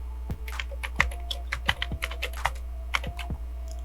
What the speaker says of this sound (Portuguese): Digitação.